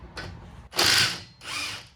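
A ratchet turns a 17mm socket on a bolt of a Hyundai Santa Fe's front suspension, giving a few short bursts of close metallic clicking and whirring with brief pauses between strokes, no voices.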